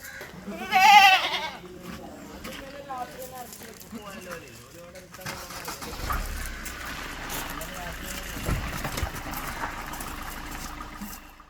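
A Malabari goat gives one loud bleat close by near the start, then voices talk over a background of outdoor noise.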